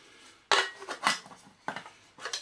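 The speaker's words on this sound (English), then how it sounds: "it's a metal bottle with a metal lid, and then you've got a little pan and a big pan" Metal pans and a lid from a camping mess kit clink and clatter together in a few sharp, close knocks, with short pauses in between.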